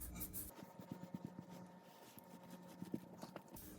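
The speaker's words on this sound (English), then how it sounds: "just very lightly, just rub your finger on here, get it off" A finger rubs residue off a plexiglass panel, with faint quick squeaky strokes in an uneven rhythm, quiet and close.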